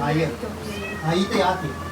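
A house cat meows several times in quick, wavering cries, close by and fairly loud, with people talking around it.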